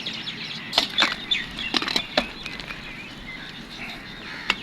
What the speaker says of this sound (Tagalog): Ito po yung mga sound ng ibon niya.